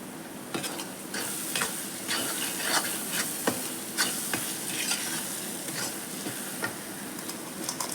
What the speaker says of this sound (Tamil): நம்ம வதக்கிக்கலாம் தேவையான அளவு உப்பு